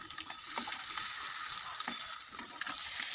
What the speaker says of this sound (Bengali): একটি ফ্রাই প্যানে সরিষার তেল ঢেলে মাছগুলোকে দিয়ে দিব। মাছগুলো এপিঠ ওপিঠ করে ভালোভাবে ভেজে নেব।